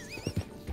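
A horse in a video game gives a high whinny over a few quick, close hoof clops, short and fairly quiet.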